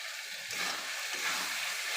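Goat fat sizzles in a hot pan while a jackfruit curry is being cooked, giving a steady, close, broadband frying hiss that swells slightly partway through, with no talking.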